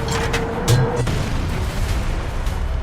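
A tank cannon fires in the tank-simulation and real-time-strategy game Sherman Commander, giving one heavy, muffled boom early on that rolls into a low rumble over steady engine drone.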